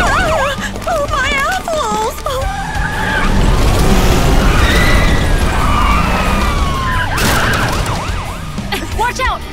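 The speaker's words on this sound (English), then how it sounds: "There's a police car in front!" Police car siren in an animated show set in a kingdom of cats, rising and falling in a loud wail over engine roar and tire skids amid busy action, with characters talking over it.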